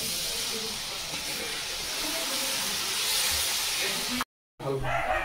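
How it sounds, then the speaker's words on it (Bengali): Water poured onto hot sautéed spices for a Bengali paneer curry sets off a loud, continuous steam hiss up close, which cuts off abruptly near the end and then resumes. "সব রকম মশলা কষানো হয়ে গেছে, জল দিয়ে দিচ্ছি।"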